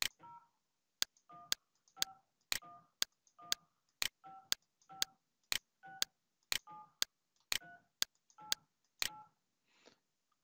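Phone keypad dialing tones, a rapid, evenly spaced series of about twenty short beeps with sharp clicks, close and clear on an Asterisk phone system with quiet between presses.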